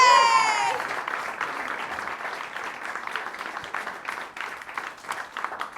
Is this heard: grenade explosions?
no